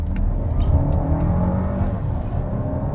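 A 2023 Toyota Crown Hybrid Max under hard acceleration heard from inside the cabin: a deep, loud engine drone rising steadily in pitch alongside a whirring hybrid note, with no talking.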